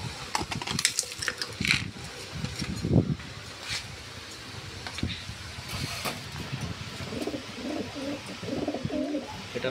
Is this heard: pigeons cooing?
yes